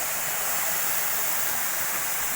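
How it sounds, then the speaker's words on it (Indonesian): Batang Hiria waterfall in Supayang, a steady broadband rush of falling water, constant and fairly loud with no pauses, no voices over it. "Ini adalah air terjun Batang Hiria di Supayang yang akan kami ekspos."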